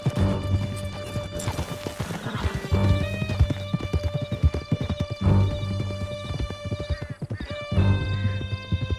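Horses gallop at full speed in Red Dead Redemption 2, a rapid, loud, continuous clip-clop of hooves with occasional neighs and a rider's shout over the pounding rhythm.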